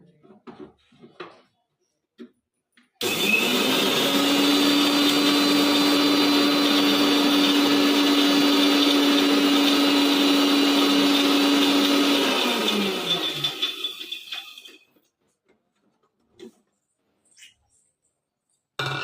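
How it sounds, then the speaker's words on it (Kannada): A mixer grinder whirs loudly for about ten seconds grinding cashews and puffed rice to a fine paste, then winds down, with a few clicks and rattles before and after. "ಈಗ ನೈಸ್ ಆಗಿ ಮಿಕ್ಸಿ ಮಾಡ್ಕೊತೀನಿ ನಾನು"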